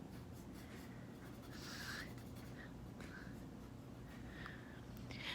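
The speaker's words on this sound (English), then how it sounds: "I'll draw a little TV here." Pencil sketching a small TV on paper, close and quiet, with soft scratchy strokes in short bursts over faint room hiss.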